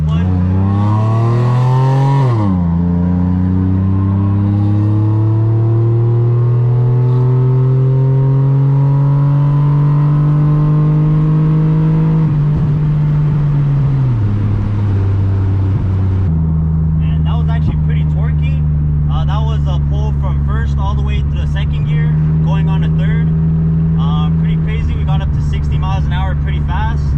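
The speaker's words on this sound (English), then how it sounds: "We're about to go full open throttle in 3" A 3G Mitsubishi Eclipse with an aftermarket exhaust revs loud and close, climbing sharply at full throttle, holding a droning pitch, then dropping and settling into a rough burbling idle with crackles.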